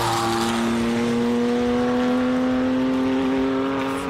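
A Porsche RSR racing car with a flat-six engine and yellow headlights climbs a hill on a hillclimb course, its loud, steady engine note holding near and rising slightly as it pulls uphill.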